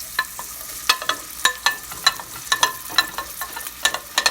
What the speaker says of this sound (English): we just want to sweat it a little. Saute it a little